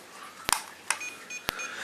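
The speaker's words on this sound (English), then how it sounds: "Now you hear the beep" A few short electronic beeps and clicks from a mini drone controller pairing, sharp and isolated, over a faint steady hum.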